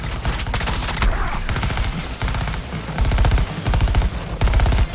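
Suicide Squad: Kill the Justice League gameplay delivers sustained rapid automatic gunfire, loud and close, in dense rattling bursts with only brief breaks.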